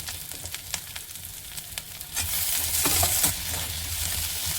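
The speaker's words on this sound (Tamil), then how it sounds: "வெங்காயம் நல்லா வதங்கட்டும்." Steady sizzling and crackling from onions sautéing in a pan, growing louder partway through, with a few clinks of a utensil stirring.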